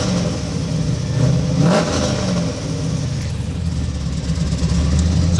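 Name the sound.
V8 engine revving in Mazda RX7 FD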